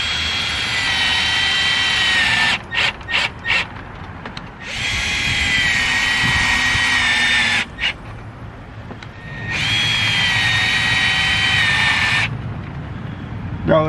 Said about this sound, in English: So I'm going to go and shoot some screws in for the bottom up, get some more support